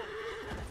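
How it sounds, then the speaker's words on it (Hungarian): A horse neighs loudly in the video game Battlefield 1, a long shaky whinny close to the listener, heard alone against steady game background noise. "Van itt egy ló."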